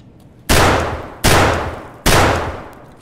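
Three loud, close shotgun blasts fire slug rounds in Escape from Tarkov, evenly spaced under a second apart, each one sharp with a booming tail that rings out before the next shot.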